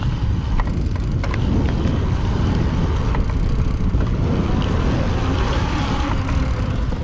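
Steady road hum from the tires of a Moustache Samedi 27 Xroad 2 e-bike rolling along, a continuous even rumble with no talking.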